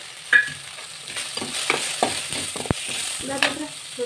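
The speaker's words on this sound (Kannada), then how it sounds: "ಇವಾಗ ಸ್ವಲ್ಪ ಮೆಣಸು, ಕಾಳು ಮೆಣಸು, ಲವಂಗ, ಏಲಕ್ಕಿ ಮತ್ತು ಸ್ವಲ್ಪ ಚಕ್ಕೆ ಇದನ್ನು ಕೂಡ ಇವಾಗ ಇದನ್ನು ಉರಿಬೇಕು." Whole pepper, cloves, cardamom and cinnamon roasting in a pan for horse gram sambar, heard as a soft, steady sizzle with scraping stirs and a few light clinks, close by and without speech.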